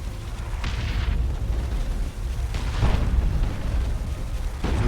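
Orbital bombardment strikes land in a Dawn of War 2 three-versus-three battle, a run of deep rumbling booms and bursts rolling one into another, loud and sustained with a heavier blast near the middle.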